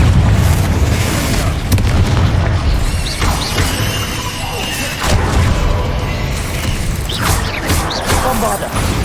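Repeated booming spell blasts from the Confringo fire spell in Hogwarts Legacy, loud and dense, layered with crashes and bursts across a chaotic battle, with shouted spell calls in the mix.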